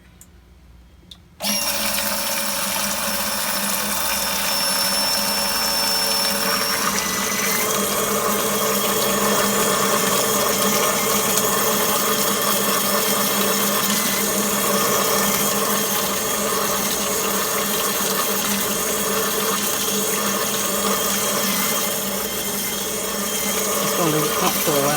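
Fuel pump switched on suddenly and running continuously, a loud, dense whine with liquid churning and slowly shifting pressure tones that waver and surge over about twenty-three seconds.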